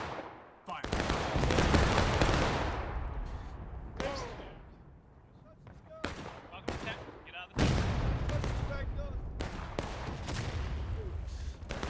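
Heavy artillery shells from a Civil War battle in War of Rights boom and crash in several loud, rolling blasts, each bursting suddenly and decaying over a second or two, with scattered distant musket cracks between them.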